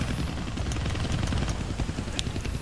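Helicopter rotor drone in the Deadpool video game, a steady continuous low rumble with engine hum filling the clip, fairly loud with no talk over it.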